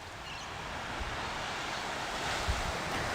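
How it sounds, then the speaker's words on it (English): Gentle waves lap against the shore of a bay at sunrise, a soft continuous wash of water mixed with light breeze noise. "Listen to the gentle sound of the waves, the water against the shore."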